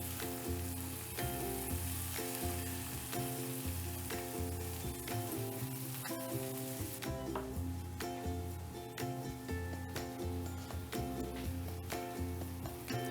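Garlic paste sizzling in a pan, a soft, continuous frying crackle broken by regular ticks and scrapes of stirring, with no one talking.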